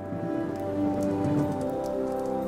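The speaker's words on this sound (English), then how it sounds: "When the rain comes," Steady rainfall patters onto plants and ground, a dense, continuous wash of drops close by, with no voices.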